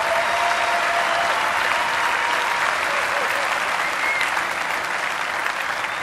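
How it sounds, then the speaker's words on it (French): Loud, dense applause from a comedy show audience fills the hall steadily throughout, a continuous wash of clapping with a faint crowd murmur and no pauses. "vous pouvez l'applaudir"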